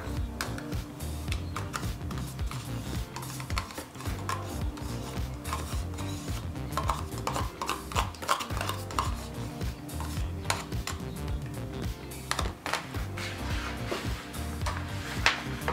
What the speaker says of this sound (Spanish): Y batimos un poco más